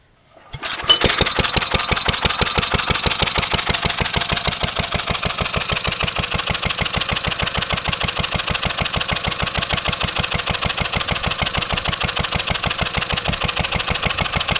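A 1928 Lindsay air compressor engine catches after a brief crank and settles into a loud, even idle close by, its rapid regular firing pulses continuing steadily with no talk.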